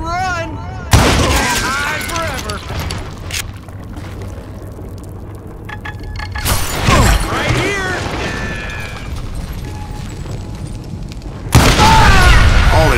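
Dynamite explosions in the video game Call of Juarez Gunslinger, with loud deep booms at intervals and rumbling aftermath between them, layered with a character's voice speaking.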